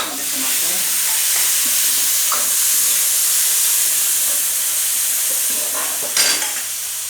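Chappan kaddu (round gourd) vegetable curry frying and being stirred in a pan, a steady close sizzle and hiss with scraping stir sounds throughout, a brief louder burst of hiss near the end.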